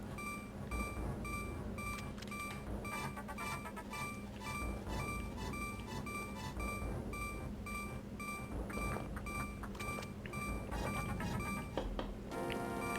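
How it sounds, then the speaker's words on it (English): Low-health warning beeps from the video game Zelda: A Link to the Past repeat steadily at a regular pulse over the game's background music, with no voices. "hopefully we can find a heart around here and not bother everyone with this beeping sound for too much longer"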